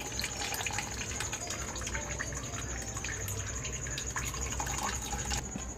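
Chhena whey runs through a tea strainer in a steady, close trickle and splash of liquid that continues throughout, at moderate loudness.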